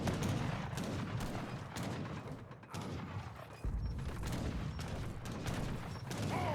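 Battle din in the real-time strategy game Age of Empires III with mortars firing, a continuous clatter of gunfire and booming impacts of fairly even loudness, with a brief dip midway.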